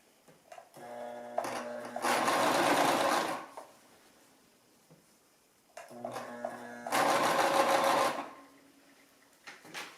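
A sewing machine stitches gently around a small round baby hat in two steady buzzing bursts, each a few seconds long, close and alone, with quiet pauses between them.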